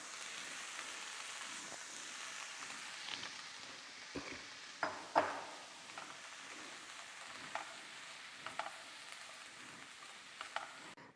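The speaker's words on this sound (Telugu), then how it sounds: "కొద్దిగా పాస్తా వేస్తున్నాను." Pasta in a cheese sauce is tossed and stirred in a pan over high heat, giving a soft, steady sizzle with occasional scraping clinks, fairly faint and close.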